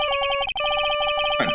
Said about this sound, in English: I bet it was this ringtone that caused it.